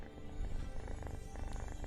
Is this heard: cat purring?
yes